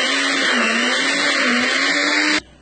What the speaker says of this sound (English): Just to blend the plantain now.